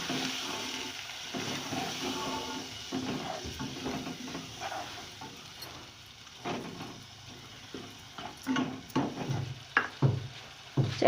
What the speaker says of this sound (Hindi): और अब इसे मैं बहुत अच्छी तरह भून लूँगी सबको।